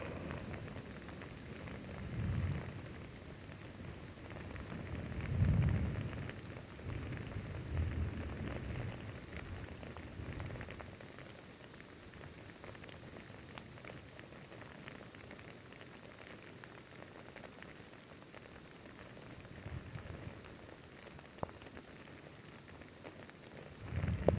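Steady rain falling and pattering on surfaces, with a few low rumbling swells, soft and continuous throughout with no voices.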